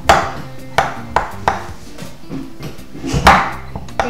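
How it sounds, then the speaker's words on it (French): Chocolate pancake batter being mixed by hand in a bowl until smooth: repeated knocking strikes of the utensil against the bowl at an uneven pace, fairly loud and close, with no talk. "Et on mélange pour que ce soit bien uni et sans grumeaux."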